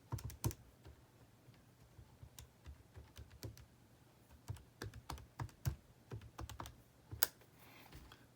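Fingers tap on a computer keyboard in quick, irregular bursts of close, light clicks, with short pauses between strings of keystrokes.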